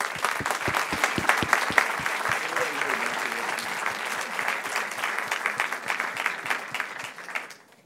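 An audience applauds steadily after a medical lecture, a dense sustained clapping that fades out near the end, with no talking over it.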